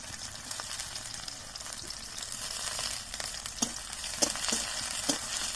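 Chopped onions fry in mustard oil in a kadhai over a mud chulha, giving a steady close sizzle with a few sharp pops and stirring scrapes, and no talking.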